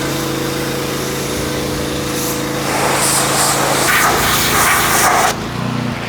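Tractor engine running steadily while lifting, a continuous close drone that swells partway through before easing back.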